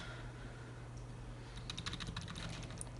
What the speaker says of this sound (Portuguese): E vamos usar o atalho do teclado. Alt, V, TR.